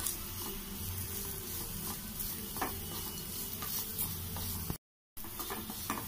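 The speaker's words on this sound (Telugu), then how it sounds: "ఈ మొత్తాన్ని ఒక నిమిషం పాటు ఇలాగే కలుపుతూ మగ్గించుకోవాలి" Amla fry crackles and sizzles in a pan while being stirred for a minute, a steady close frying hiss with soft scraping strokes and a brief cut to silence near the end.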